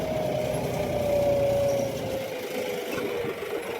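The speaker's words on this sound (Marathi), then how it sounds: "डी फास्टवर पाळी मारत असताना गाडीचं इंजन साफ चालते" A tractor engine drones steadily under load while ploughing a field, a close, continuous mechanical roar with a faint whine that fades partway through, no voices.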